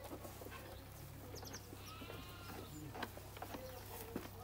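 Sheep on a farm bleat several times in short scattered calls over a steady low hum and background bustle, with a ewe that has just delivered twins nearby.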